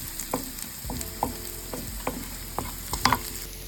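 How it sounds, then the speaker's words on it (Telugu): Garlic frying in oil in a pan: a steady, close sizzle broken by the scrape and tap of a spatula stirring, repeated about every half second, with a sharper clatter near the end. "ఎక్కువ ఎక్కువసేపు ఫ్రై చేయకూడదు, లేకపోతే గార్లిక్ రెడ్గా అయిపోయి మళ్ళీ వెంటనే మాడిపోతుంది"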